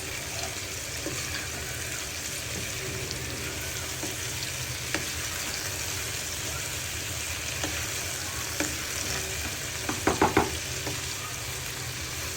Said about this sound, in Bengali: এবার সবকিছু একত্রে নাড়াচাড়া করে মিশিয়ে নিব।